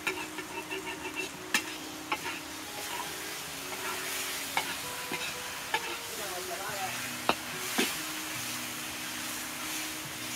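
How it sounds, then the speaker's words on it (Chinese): Cured pork (larou) stir-fried in a wok in a rural Sichuan home kitchen, with a continuous sizzle, a spatula scraping and knocking against the pan at intervals, and soft voices faintly in the background. "炒 腊肉，那是炒菜肉"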